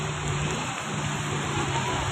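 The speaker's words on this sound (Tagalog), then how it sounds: "Lakas-lakas ng ulan, oh." Heavy rain pours steadily as a dense, unbroken hiss with no pauses, close and loud throughout.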